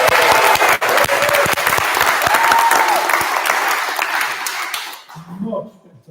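An audience at an adult learners' awards celebration bursts into loud, sustained applause with cheering, filling the room for about five seconds before cutting off, followed by a brief murmur.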